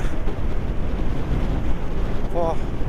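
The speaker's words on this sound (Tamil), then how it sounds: "காற்று நிறைய அடிக்குது." Strong wind buffets the microphone in a steady low roar near Nako, Himachal Pradesh, with a brief faint tonal sound near the end.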